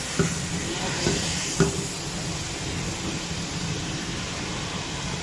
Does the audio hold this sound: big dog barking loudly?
no